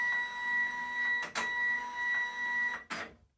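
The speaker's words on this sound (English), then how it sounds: "the printer will boot up. It'll calibrate as it normally does because it's set to do that." A Zebra label printer booting up and calibrating, giving a steady whine with a few stepped motor tones and two sharp mechanical clunks.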